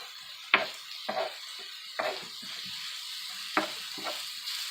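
Seafood and charred vegetables fry in a pan while being stirred, a steady soft sizzle broken by about five distinct scraping stirs spaced roughly a second apart, close and fairly quiet.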